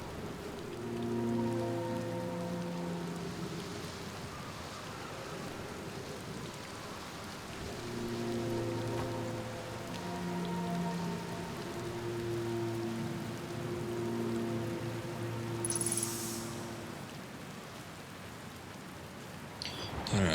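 A steady rain storm hisses in the video game Outer Wilds, a soft continuous wash of falling drops beneath a calm melodic music track throughout.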